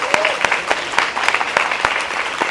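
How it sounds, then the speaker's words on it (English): Audience applause at a scholars' awards reception, a steady wash of many hands clapping with sharp individual claps standing out, loud and sustained throughout. "Can we have a round of applause for all of our incredible scholars?"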